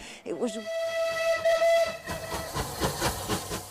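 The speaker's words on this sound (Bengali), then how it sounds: "উনিশশো সালে ব্যাপকভাবে ব্যবহৃত হতো ক্যানাডিয়ান প্যাসিফিক নামের এ বাষ্পচালিত ট্রেন" A steam train's whistle sounds one long, steady, piercing blast, followed by rhythmic chuffing and hissing steam.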